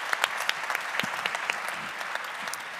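Audience applause at an open innovation congress in Baden-Württemberg, a steady spread of many hands clapping with sharper individual claps near the start, heard alone at moderate volume.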